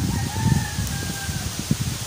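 A rooster crows in the distance with a drawn-out call, over a steady wash of strong wind and light drizzle, with some nearby clucking, at a ginger plot.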